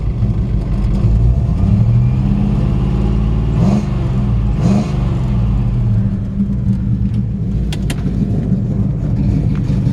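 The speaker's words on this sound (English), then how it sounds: "Got a nice sounding engine." A 1953 Ford F100 pickup truck's engine revs up and down several times, close and loud, with a throaty exhaust rumble that continues steadily between the revs.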